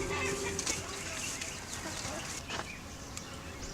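Chickens cluck among farm-yard ambience in a garden setting, a steady busy murmur of fowl with a few sharper calls, under faint background voices.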